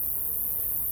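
Bees swarm inside a bee vacuum box, a dense, steady buzzing hum heard up close for under a second.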